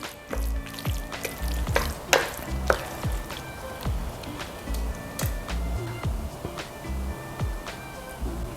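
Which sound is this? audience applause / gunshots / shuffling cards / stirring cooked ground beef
stirring cooked ground beef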